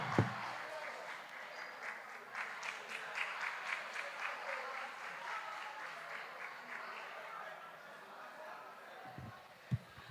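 Audience clapping for prize winners at an e-learning week event in Obuasi, a steady patter of hands sustained for several seconds at moderate distance, trailing off near the end.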